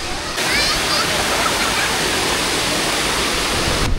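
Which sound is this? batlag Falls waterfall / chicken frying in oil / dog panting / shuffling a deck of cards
batlag Falls waterfall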